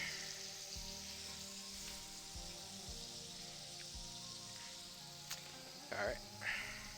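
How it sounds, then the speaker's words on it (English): Chicken pan-searing for a few seconds in a hot pan gives a steady, moderate sizzle with brief knocks and clatters near the end. "Get that pan sear on it."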